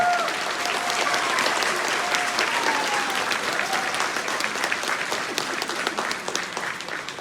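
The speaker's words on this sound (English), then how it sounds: "Can we give our young ones a round of applause?" Audience applause for young Indigenous dancers at an arts and culture performance: a steady burst of many hands clapping, fairly close and full, with a faint whistle or cheer early on, tapering slightly at the end.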